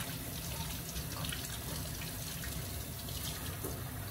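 Tap water runs steadily into a sink while cilantro is washed, a soft continuous splashing hiss at low level with no breaks.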